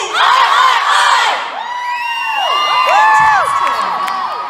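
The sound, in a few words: Australian crowd cheering and shouting in an auditorium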